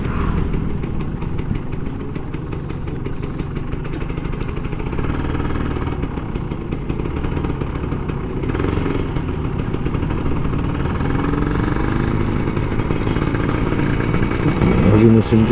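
Kawasaki Ninja RR 150 two-stroke motorcycle, an older model, its engine buzzing and idling close up, then revving near the end, with a rider talking over it.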